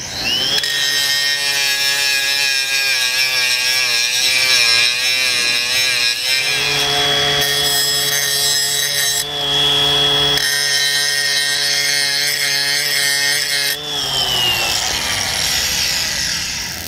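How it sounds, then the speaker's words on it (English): A grinding wheel whines against a metal weld continuously at close range, its pitch wavering and shifting as pressure changes, loud with no talking. "Let's see if we can take down this little high spot"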